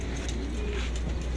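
Pigeons coo softly in a loft, a faint, continuous low murmur of overlapping calls with no clear breaks.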